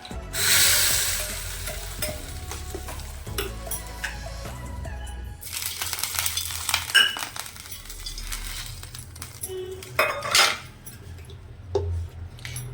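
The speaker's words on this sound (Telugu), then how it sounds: "తాలింపు వేసుకుందాం రండి. సో ఫస్ట్ కొంచెం ఆయిల్ పోయాలి" Seasoning seeds and curry leaves hit hot oil for an Andhra chutney tempering, close sizzling bursts that swell and fade, mixed with clinks of a metal spoon against the pan.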